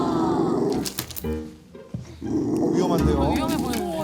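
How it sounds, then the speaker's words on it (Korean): A pet dog growls at home, a low continuous rumbling growl close by that rises and dips, pausing briefly midway before resuming. "너 왜 이렇게 으르렁거리는데?"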